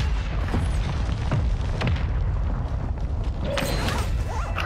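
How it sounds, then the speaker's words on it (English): A mortar blast in the shooter game Warzone 2, heard as a dense, booming rumble that fills the clip with a few sharp impacts and crackling debris over sustained low noise. "Oh, I just caught a fucking mortar in for no reason."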